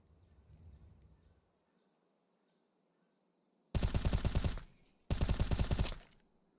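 Two loud, rapid bursts of Tec-9 and MAC-10 submachine gun fire in a competitive video game match, each lasting about a second, separated by a short gap after a quiet stretch of faint background noise.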